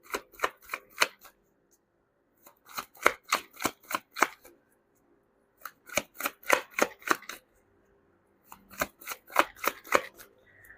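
A tarot deck is shuffled by hand in quick bursts of crisp card riffles and flicks, close and alone, with silent pauses between the runs of snapping cards.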